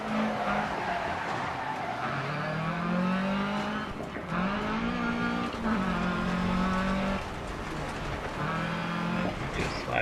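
Rally car with a sequential transmission in the video game Dirt Rally, engine revving up and dropping through repeated rapid shifts, with tire noise and a faint voice underneath.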